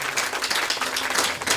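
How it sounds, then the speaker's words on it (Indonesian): A church congregation claps in steady applause, a dense, even wash of hand claps filling the room for a short burst with no talking over it. "Tepuk tangan yang meriah buat Tuhan."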